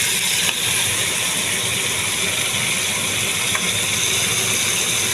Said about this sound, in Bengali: এইভাবে ফুল ফ্লেমে আমি মাছটা ভেজে নেব